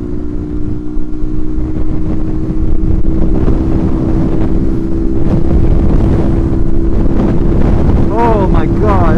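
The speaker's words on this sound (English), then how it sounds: "That wind is terrible." Strong spring wind buffets the microphone outdoors, a loud continuous roar and rumble with gusting swells, and a brief voice near the end.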